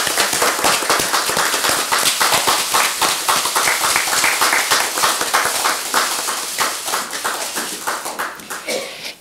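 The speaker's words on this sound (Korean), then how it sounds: "박수 부탁드리겠습니다" Audience applauding at a Democratic Party (더불어민주당) candidate-recruitment ceremony for a former handball coach, dense steady clapping from a crowd that carries on for the whole stretch and tapers slightly near the end.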